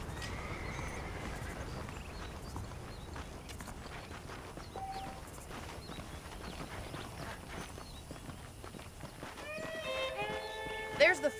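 Horses in the Red Dead Redemption video game, saddled up and waiting, whinny and clop their hooves over a steady outdoor ambience, with a sharper cluster of neighs near the end.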